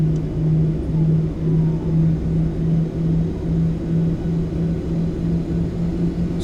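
PMDG 737-800 jet engines turning in the MSFS 2024 simulator: a steady low rumbling drone with a pulsing hum, continuous and fairly loud, with no talk.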